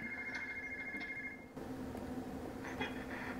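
Telephone ringing in a Legacy of Rosemond Hill horse video game, a repeating electronic ring that stops midway and gives way to quiet background music, faint and with no talk.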